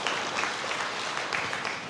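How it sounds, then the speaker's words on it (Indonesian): A church congregation breaks into lively applause during a sermon, a dense, even patter of many hands clapping at moderate volume with no voices over it. "Yang setuju berikan tepuk tangan yang meriah."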